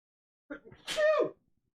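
A single sneeze, preceded by a short sharp intake of breath, then a loud, close burst that trails off quickly into silence.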